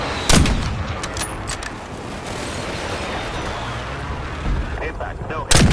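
Airstrike artillery impacts in Warzone, sharp loud blasts at the start and end with a rumbling, crackling barrage rolling between them, heavy and close.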